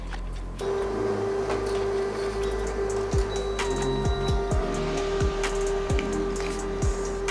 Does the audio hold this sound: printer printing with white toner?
yes